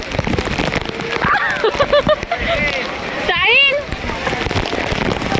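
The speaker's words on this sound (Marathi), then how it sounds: "रायगडावरचा पाऊस एवढा जोरात सुसाट वारा सुटलाय." Heavy rain pours down amid gusty wind noise on Raigad fort, with people talking loudly over the downpour throughout.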